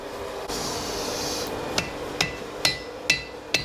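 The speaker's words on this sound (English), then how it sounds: "maybe the lighter hammer, because I can hit harder with confidence with the lighter hammer" Metal rings under four or five sharp blows from a lighter blacksmith's hammer on hot metal while forging a nail, at an uneven pace, following a steady grinding hiss that stops partway through.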